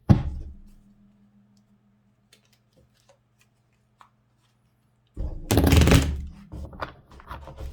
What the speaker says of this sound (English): And last shuffle.